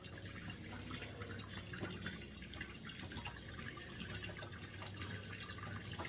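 Water trickles and drips unevenly from a tap into a basin on a second floor with weak water supply, starting and stopping in small splashes, close and fairly quiet.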